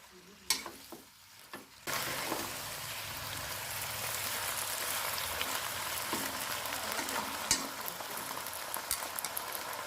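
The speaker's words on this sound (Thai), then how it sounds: "ผัดให้เข้ากันเลยนะครับผม" Cabbage is stir-fried in a hot pan with fish sauce. A few light clinks come first, then a loud, steady sizzle starts and continues with scraping stirs, close up.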